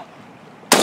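Near the end, one loud shotgun blast fires at a turkey on a Colorado prairie hunt, sudden and broadband, after a quiet outdoor stretch.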